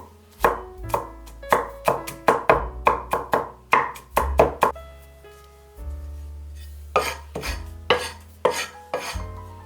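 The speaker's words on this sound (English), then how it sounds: "Chop 30 grams of garlic." A knife chops 30 grams of garlic on a board in a kitchen while making Chinese shredded chicken noodles: quick bursts of close, sharp thuds with brief pauses, then a second run of strikes, with no talking.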